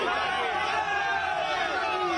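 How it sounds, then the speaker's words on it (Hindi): A large rally crowd at a political event chanting together in a dense, roaring mass of voices that holds steady for about two seconds before cutting off. "भीड़ ने मोदी मोदी के नारे लगाए"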